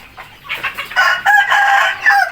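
A rooster crows loudly over steady clucking from several chickens in the evening, the calls overlapping in a lively barnyard chorus with no talking.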